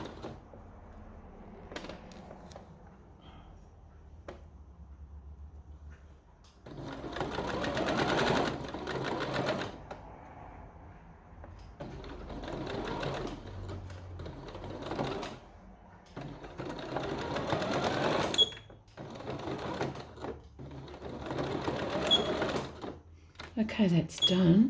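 A sewing machine stitches back and forth across a zipper on a little girl's dress, several bursts of rapid whirring separated by pauses, close and clear, with quiet talk in between.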